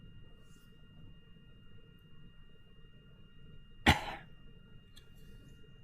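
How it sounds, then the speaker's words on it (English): A single sharp cough bursts out briefly and fairly close over a quiet room background, with a short trailing tail. "They're making me cough at this point."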